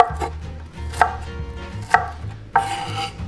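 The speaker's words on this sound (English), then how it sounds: "now we chop the onion" An onion chopped with a knife on a board, four or five distinct, fairly loud thunks at an uneven pace, close and free of talk.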